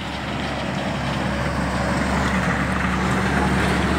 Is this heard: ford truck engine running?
yes